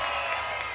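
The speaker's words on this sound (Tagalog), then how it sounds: "pwede ba ako makarinig ng palakpakan na may kasamang sigawan?" Crowd cheering and shouting at a barangay talent show, a steady loud wash of voices with whoops throughout, without clear separate claps.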